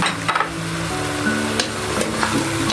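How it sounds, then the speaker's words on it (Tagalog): Potatoes go into a pot of pork nilaga, a dense sizzling, bubbling wash with soft knocks and scraping clatter near the start, steady and close, with no voices. "isama na natin tong patatas natin"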